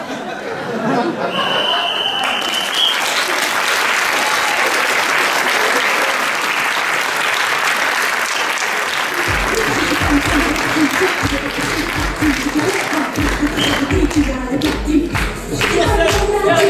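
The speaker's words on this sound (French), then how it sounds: "qu'on peut applaudir très fort" Audience at an improv theatre match during the Improneuf festival applauding loudly: a dense, sustained wash of many hands clapping, with crowd chatter mixed in and a low rhythmic thumping joining halfway through.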